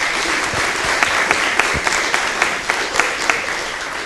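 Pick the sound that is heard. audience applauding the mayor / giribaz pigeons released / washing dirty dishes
audience applauding the mayor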